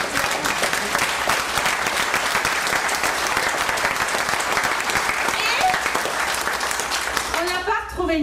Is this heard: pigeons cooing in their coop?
no